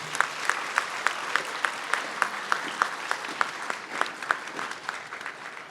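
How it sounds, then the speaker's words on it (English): Outdoor crowd applause at a Memorial Day ceremony, a moderate round of clapping with a few sharper individual claps standing out in a regular rhythm, steady and somewhat distant. "Let's give them one more hand clap"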